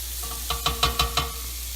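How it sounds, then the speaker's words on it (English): Diced carrots and onions sauté in a pan for clam chowder, giving a handful of soft clicks and scrapes from stirring, about five quick strokes over a low steady sizzle, close and fairly quiet. "I'm going to saute that a little bit for a while,"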